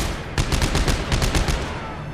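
Rapid bursts of automatic gunfire from the sci-fi shooter Dead Space 3, a steady string of sharp, loud shots in a rhythmic volley lasting about two seconds, with no talk.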